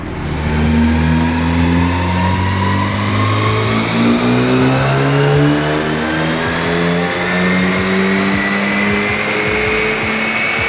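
A brand new turbocharged Ford Focus ST engine on dyno rollers revs loud and close in one long, steadily rising pull, its pitch climbing smoothly with no talk over it.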